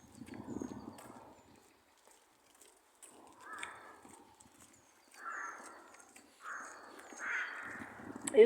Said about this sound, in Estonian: Miks siin on nii palju vareseid?